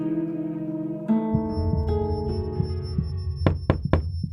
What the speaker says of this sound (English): 3 knocks tapped on the wooden door.